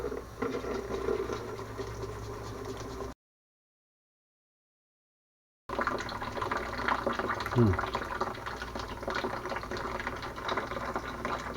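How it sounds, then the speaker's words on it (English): Running tap water pours steadily while old dirty coins are rinsed, a continuous close hiss and splash that is briefly cut off, then resumes with a faint tonal squeak. "put the running water"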